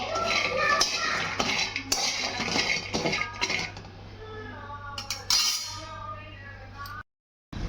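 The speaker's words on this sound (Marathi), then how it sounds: "हा बघा मी वडा भाजून घेत आहे" Vada roasts in a pan, with a spatula or spoon clinking and scraping against the metal over a continuous frying hiss, the activity thinning out before falling abruptly silent near the end.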